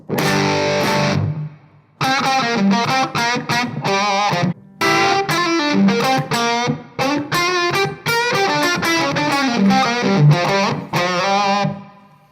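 Fuzzy distorted electric guitar through a Spaceman Nebula fuzz pedal, density knob fully right, playing a choppy riff of short bursts and sustained notes, thick and saturated, with brief pauses between phrases.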